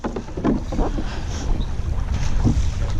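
A team paddles a boat together during practice out on open water, rhythmic splashing strokes mixed with gusty wind buffeting the microphone, fairly close and loud.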